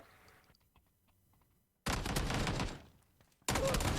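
Two loud shotgun blasts from a video game, each a sudden heavy burst after a quiet stretch, the first trailing off over about a second and a half.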